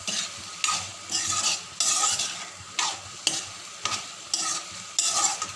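Potato pieces sizzle and fry in a pan while being stirred, rhythmic scraping strokes repeating about once a second over a constant close hiss for an Assamese fish head curry, with no voices.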